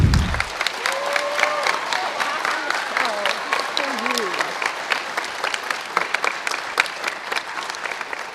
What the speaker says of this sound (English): If you would please give these kids, the band and the chorus students, a round of applause.